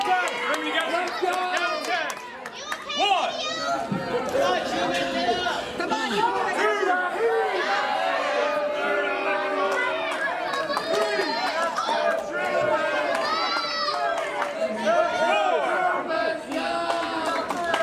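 A wrestling event crowd cheering for Truman, dense continuous chatter and excited shouts from many voices filling the arena throughout, steady and fairly loud.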